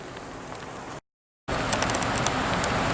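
Steady rain hisses down on a wet camp spot along the Denali Highway, a constant broadband patter that cuts out briefly for half a second before resuming slightly louder.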